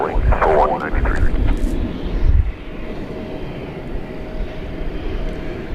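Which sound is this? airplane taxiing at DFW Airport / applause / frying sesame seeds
airplane taxiing at DFW Airport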